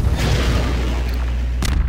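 A rocket explosion in the Half-Life 2 video game makes a loud, sustained booming roar with heavy low rumble, and a second sharp crack follows near the end. No one speaks.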